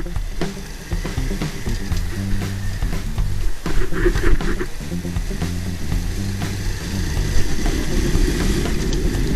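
A motorcycle engine runs steadily close by, its low droning rumble holding through the stretch, with slight swells in loudness and no voices heard.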